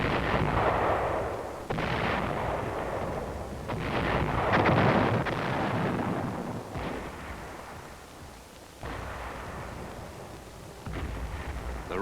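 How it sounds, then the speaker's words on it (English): Artillery and mortar fire during a military battalion advance backed by tanks: a run of heavy, booming blasts a few seconds apart, each followed by rumbling decay, with no talk. "Artillery and mortar fires supported the advance."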